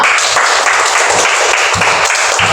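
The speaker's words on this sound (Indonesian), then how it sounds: "Tepuk tangan untuk kita semua." Classroom applause from a group of students and a teacher, steady dense clapping that fills the whole stretch at close range with no talk over it.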